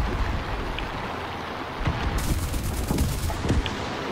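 Enemy gunfire in the aircraft combat game War Thunder, rapid bursts of shots over a constant roaring engine drone, loud and dense, with no talking.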